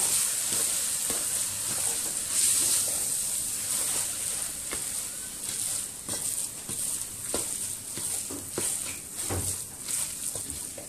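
A spoon stirring samosa filling with coriander in a pan, giving soft scraping clacks over a low, steady sizzle that runs on without a break.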